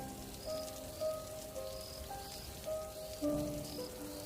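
Rain falls steadily outdoors at night during a village storm, a soft continuous patter with faint scattered tones over it, fairly quiet and distant.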